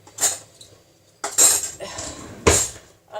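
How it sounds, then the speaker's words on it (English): A metal spoon clinks against dishes in a kitchen, three distinct close rattling knocks separated by short pauses. "So, get a spoon."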